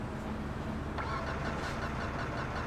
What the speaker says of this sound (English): How long do I have to sit here waiting for this car to start?